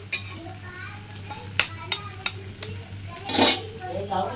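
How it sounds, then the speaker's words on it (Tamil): Eggs cracked one at a time into a pan on a low flame, six eggs going in for an egg thokku. Sharp, separate taps and clinks of shell on the pan ring out over a low steady hum. "இப்போ நம்ம வந்துட்டு முட்டையை ஒன்றொன்று உடச்சி ஊற்றிக்கலாம்"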